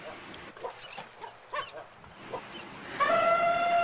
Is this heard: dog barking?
yes